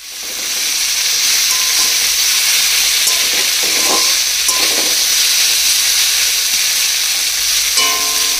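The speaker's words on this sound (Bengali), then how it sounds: "কিছুটা আলু কেটেছিল, সেটারও ভাজা করে নিচ্ছি তাড়াতাড়ি" Loud, constant sizzling of potatoes frying in a pan fills the scene, with occasional scraping and clinks of a spatula stirring against the metal and a continuous hiss of steam.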